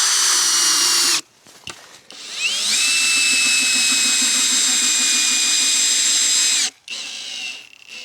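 A power drill drives a thick screw into wood while building a table at a camp, its steady whining motor running for several seconds between short pauses, loud and close with no talk.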